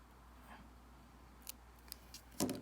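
Scissors make a few faint, sharp snips while cutting a nail polish strip close to a fingernail, with isolated clicks building to a louder final cut in a quiet room.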